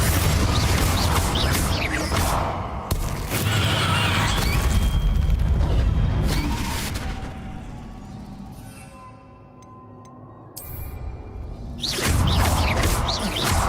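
Confringo explosive spells go off in Hogwarts Legacy, loud booming blasts and crashes with whooshing bursts and rumbling debris, fading into a quieter lull before another heavy burst.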